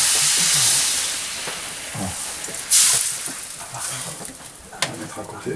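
Socca batter poured onto a hot plate in a wood-fired oven gives a loud hissing, steamy sizzle that bursts sharply partway through and then settles, with scattered clanks of the metal plate nearby.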